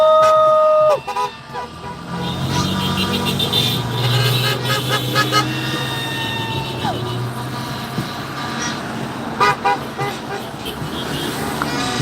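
Busy city street traffic during an ICE protest in Saint Paul with police cars driving by, steady loud roar of passing vehicles, a few horn toots and a drawn-out engine swell, all up close.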